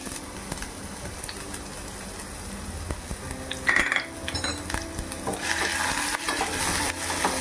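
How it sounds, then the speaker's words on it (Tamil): Steady sizzling of onions, ginger and garlic frying in hot oil, with a utensil stirring and occasional metallic clinks against the pan, close by. "கொஞ்சமாக வதக்கிக்கலாம்."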